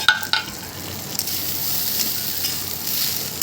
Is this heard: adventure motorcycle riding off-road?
no